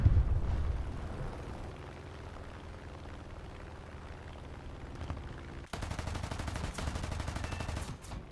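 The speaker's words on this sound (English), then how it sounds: "Ostwind firing at me." Ostwind anti-aircraft gun in a video game firing in sustained bursts, a steady rumbling barrage that grows sharper and louder with rapid crackling reports near the end.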